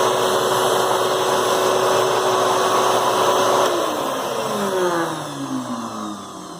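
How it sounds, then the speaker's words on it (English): A Ridgid wet/dry vac runs with a loud, steady roar and whine, then switches off and winds down, its pitch sliding lower over the last few seconds. "Ridgid wet dry vac."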